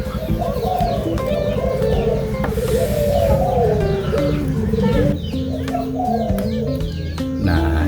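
Spotted dove (tekukur blorok) hen cooing in repeated low, soft phrases, close and steady, with other birds chirping and calling in the background throughout.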